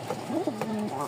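A male maxi pigeon gives a short, close cooing call with rising and falling warbles, clear and alone with no talking over it.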